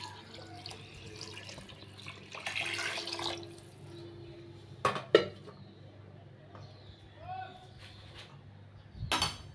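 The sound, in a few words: water being poured into a cooking pot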